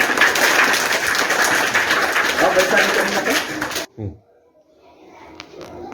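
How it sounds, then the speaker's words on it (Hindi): Schoolchildren at a government school donation event in Udaipur clap together in a dense, loud burst of applause for about four seconds, then it stops abruptly, leaving near silence with faint background noise. "बहुत अच्छा, ताली बजा"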